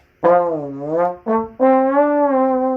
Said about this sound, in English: The trombone, however, is medium-sized, and it has a slide.